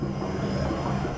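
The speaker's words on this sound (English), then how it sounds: "The plane bringing into the country the president of Sierra Leone is gradually heading to the VIP lounge" A fixed-wing aircraft carrying the president of Sierra Leone taxis toward the VIP lounge at an airport in Liberia, its engines giving a loud, steady, broad roar with no talk.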